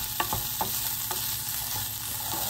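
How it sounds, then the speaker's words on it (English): Tomato paste with paprika and curry spices is stirred in a hot pan, giving a continuous sizzle broken by several light scraping stirs, close and moderately loud, with no voices. "and I'm just gonna stir"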